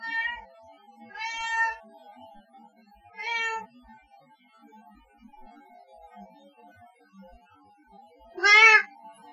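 A cat meows four times at irregular intervals, close and clear. The last cry is the loudest, and a faint steady hum runs in the quiet between them.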